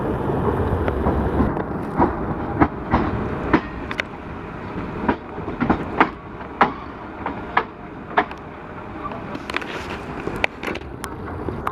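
An empty rake of the Sarnath Express, Chhapra to Durg, rumbles past with a broad roar and a run of sharp wheel clicks and clanks over rail joints, fairly loud and close, with no talking.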